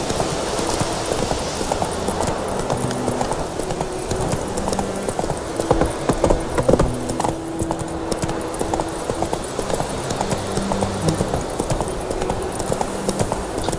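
Roach, the horse in The Witcher 3, gallops at a fast steady pace, hoofbeats pounding continuously and loudly across the whole stretch under in-game ambience.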